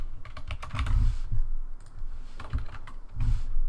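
Keys clacking on a computer keyboard while entering code, a quick irregular burst of close, crisp keystrokes with brief pauses, no voice over it.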